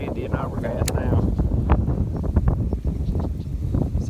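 Outdoor wind buffets the microphone on an overcast fishing day, rumbling steadily under a voice.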